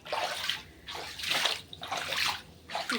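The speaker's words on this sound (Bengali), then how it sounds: "জল, অনেক জল রান্নাঘরে" Floodwater swirling and sloshing in a kitchen under a staircase, with the oven submerged, a close, continuous wash of splashing water that swells and ebbs in waves.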